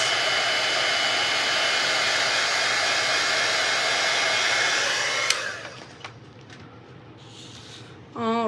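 A heat tool warms a craft piece until it turns glossy white, giving a loud, steady blowing whir up close that runs for several seconds before being switched off and winding down.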